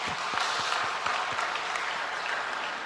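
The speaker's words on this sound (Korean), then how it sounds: "우리 한번 박수 한번 합니다." Applause from a congregation during a Sunday church service in Daegu, a steady wash of many hands clapping close by that fills the whole clip evenly at moderate loudness, with no speech over it.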